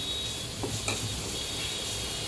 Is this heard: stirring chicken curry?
yes